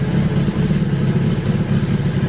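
A Suzuki GS1000 motorcycle engine idles at low RPM, a steady low rumbling throb that stays even and fairly loud throughout with no revving or voices.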